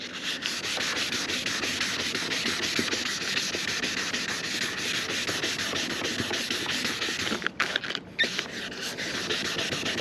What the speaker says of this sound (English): I'm already here buffing the truck anyways, so it don't matter.